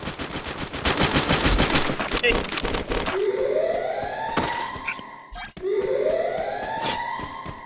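Gunfire in the mobile battle game Free Fire: loud, rapid bursts of automatic shots fill the opening seconds, followed by sparse single shots and rising siren-like whoops, with voices present in the mix.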